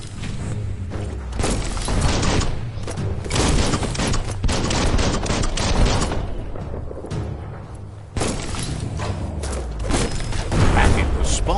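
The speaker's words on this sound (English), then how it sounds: "It's a bomb lobber." Bomb-lobbing enemy in a platform video game as a rodent character, repeated thumping blasts and bursts of gunfire-like booms sounding throughout, loud and busy, mixed with game noise.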